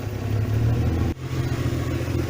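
Subaru H6 3.0 engine fitted in a VW T3 van, idling close by with a steady low hum and light clatter, broken by a brief dip midway; no talk.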